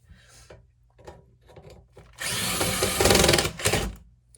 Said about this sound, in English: Get your screwdriver.